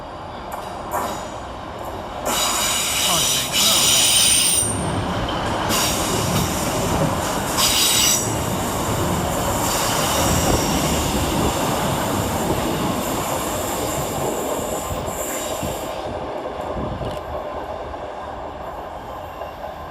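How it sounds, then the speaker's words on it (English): Two coupled Class 156 diesel units, 156429 and 156420, pass through Deansgate station with a rising engine drone, rhythmic wheel clatter and shrill flange squeals, then fade as they move away. "Passing through the station next is 156429 and 156420, working 2 Oscar 85 from Manchester Oxford Road to Liverpool Lime Street via"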